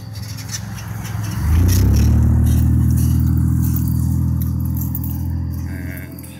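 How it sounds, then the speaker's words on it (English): A car approaches and passes close by at night on a road beside someone walking, its engine swelling into a loud, low rumble that holds for several seconds and then slowly fades. "Oh, car's coming."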